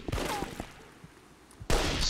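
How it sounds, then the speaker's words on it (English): Sniper rifle shots in Enemy Front multiplayer: a sharp report at the start and another loud crack near the end, separated by quieter game ambience. "Sniper battle going on"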